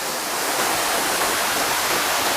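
Waterfall roaring as a steady, loud broadband rush of falling water, continuous and unbroken with no voices.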